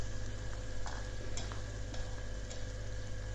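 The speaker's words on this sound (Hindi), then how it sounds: "और अब इसको फ्राई करना है 2 से 3 मिनट, इतना कि लहसुन लाइट सा ब्राउन होना शुरू हो जाए।" Garlic ginger paste for mutton karahi frying in hot oil, a steady dense sizzle with occasional scraping clicks of a spoon stirring the pan, close and continuous with no talking.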